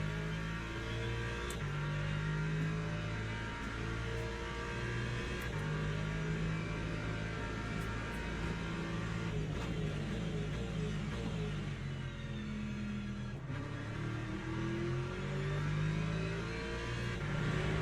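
Lamborghini race car engine in Le Mans Ultimate during a Daytona endurance race, a steady mid-pitched drone rising and falling with gear changes and revs, with other cars audible around it.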